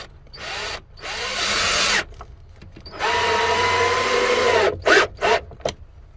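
Power drill boring holes to mount supports in a 21-year-old Renault Kangoo micro camper van conversion, two close whining bursts of about a second each, followed by short clattering knocks.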